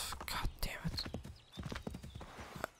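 Horse hooves clip-clop in Assassin's Creed 3 gameplay, a quick uneven trot with a brief whinny, while someone talks over it quietly.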